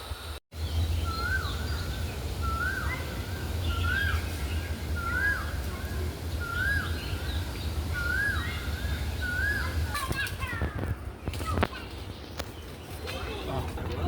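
At a Hong Kong zoological garden, a bird gives a repeated series of clear, evenly spaced calls, about eight in a row, over low background rumble, with people talking nearby.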